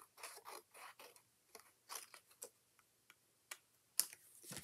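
Paper being cut in half with scissors during a paper pumpkin craft, a series of crisp snipping cuts in an irregular rhythm, close and fairly quiet, with no talking.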